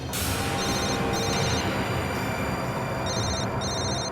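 A telephone rings in repeated electronic trills over a loud, constant rumbling background, in a scene from the Hindi TV crime drama CID.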